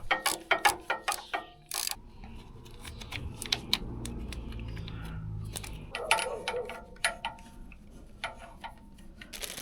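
A ratchet tightens fresh bolts on a new crash protector fitted to a BMW R1100/R1150 motorcycle, giving a run of rapid clicking pawl sounds with metallic taps and brief pauses, close up, with no talking.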